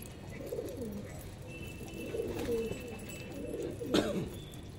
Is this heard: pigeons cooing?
yes